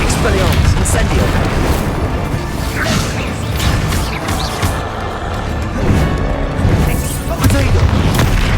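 Incendio fire spells in Hogwarts Legacy go off in repeated loud booms and crashing blasts with whooshes, packed tightly together amid voices and game noise.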